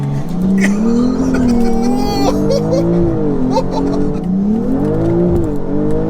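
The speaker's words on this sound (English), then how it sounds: "it's spinning up all four wheels" A 1500 bhp BMW with a B58 engine revs hard and spins all four wheels, the loud engine note climbing and falling in waves with tire squeal over it, close and sustained throughout.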